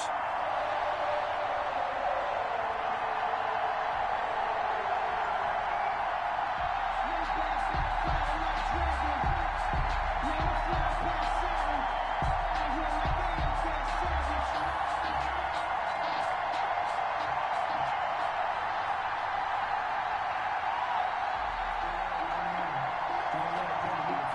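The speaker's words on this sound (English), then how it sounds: "This crowd is ready as their guys get set to match up with the Denver Broncos." Stadium crowd cheering in a Madden NFL video game before a Kansas City Chiefs versus Denver Broncos matchup, a steady loud roar with swells of whoops, while a commentator talks over it throughout.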